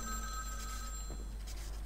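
A telephone rings in the video game Vampire: The Masquerade - Bloodlines, a clear electronic bell tone repeating over a low steady hum.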